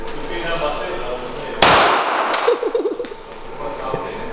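A single sharp, loud crack of AK-47 Kalashnikov rifle fire goes off close by at an outdoor range, ringing briefly before a short burst of excited voices.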